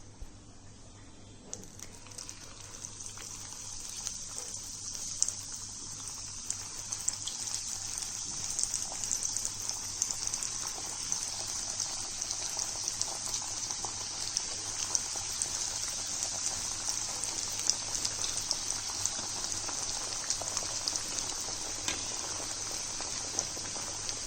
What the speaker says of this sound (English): So now we are going to fry our vadis.